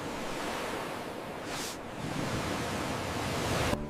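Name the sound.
ocean waves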